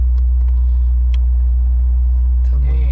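A car pulls over to the side of a road, its steady low engine rumble and tire hum dominating up close, with a few faint clicks and a brief voice near the end.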